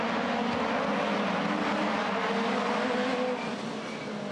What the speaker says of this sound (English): look at this angry pack coming through this right and left section and onto the main straight